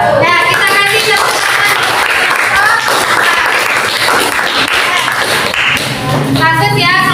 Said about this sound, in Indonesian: kita kasih tepuk